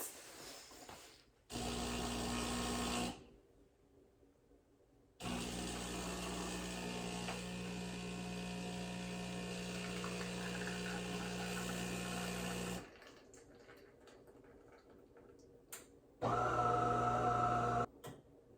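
A De'Longhi Dinamica espresso machine grinds beans and brews espresso: short loud grinding bursts, a long steady pumping hum with a mechanical whir, quiet gaps, and a final louder burst near the end.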